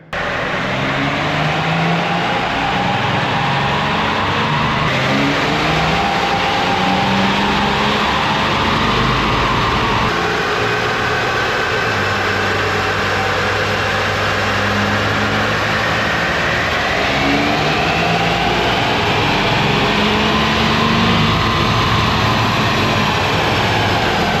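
Heavy, steady roar of a modified EcoDiesel pickup's diesel engine under load on a dynamometer, rising in pitch through a sustained pull that lasts the whole span, loud and close with no talking.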